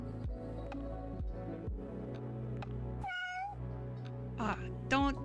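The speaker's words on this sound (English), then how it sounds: "don't yell at me, cat" A cat meows loudly indoors, two sharp rising cries near the end, over a low steady hum and a scatter of soft clicks.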